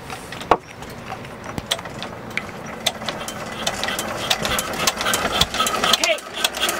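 A Sabb 10hp single-cylinder boat engine is hand-cranked with decompression on, giving a steady mechanical chugging with repeated clicks and knocks throughout, loud and close, with a voice briefly in the background.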